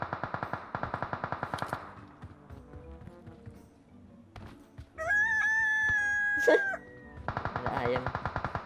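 A chicken in PUBG Mobile squawks in a sustained, shrill, warbling burst, loud and close, between stretches of rapid mechanical rattling from in-game gunfire or an engine.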